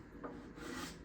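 Scraping along the back binding of a guitar body, a short steady rasp of a blade drawn over the wood and binding edge, close and fairly quiet, with no talk.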